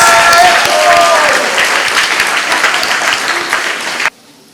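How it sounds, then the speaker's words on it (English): Sustained, dense audience applause at an 8th grade graduation ceremony, steady and loud for about four seconds before cutting off abruptly into near silence. "Give them a round of applause."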